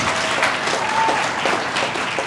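Graduation ceremony audience applauding graduates: a steady wash of dense clapping fills the whole stretch at even loudness, with faint voices and a brief whistle-like tone mixed into the crowd noise.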